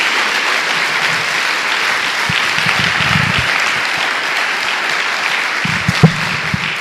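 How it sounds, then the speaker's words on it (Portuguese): Sustained applause from a large church congregation fills the space, a dense, even patter of clapping that continues throughout with a few louder claps near the end. "Dê uma salva de palmas a Jesus."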